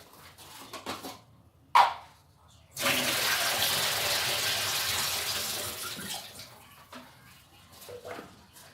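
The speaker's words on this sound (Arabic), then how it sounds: "غادي نحيدو منها هاد الماء هذا" Water pours off preserved olives being drained, a steady gushing splash lasting several seconds after a few brief knocks and trickles, then tapering into scattered drips and clatters; no one speaks.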